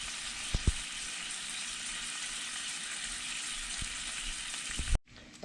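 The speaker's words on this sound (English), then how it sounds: "Bacon cooks fast anyway." Bacon sizzles steadily while frying in a pan, a dense continuous crackle with a few sharper pops near the start, then cuts off abruptly near the end.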